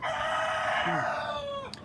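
A single silkie rooster crows close by, one long drawn-out call that holds steady and then trails off, with a brief cluck at the end.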